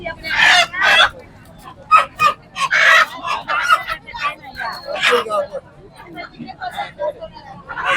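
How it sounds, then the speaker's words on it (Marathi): Country chickens and roosters at a busy fish market, with repeated clucks and crowing bursts over a babble of bargaining voices and nearby speech. "नंतर कसले कोंबडे आहेत बघा मित्रांनो."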